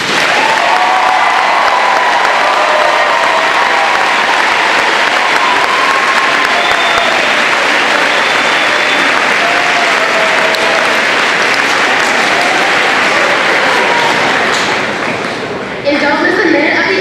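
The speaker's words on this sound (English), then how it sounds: "Let's give a big round of applause to the U.S. Army" Loud, sustained applause and cheering from a large crowd at a high school event during the Army Bowl tour, honoring U.S. Army soldiers, rolling on for over fifteen seconds before a sudden drop.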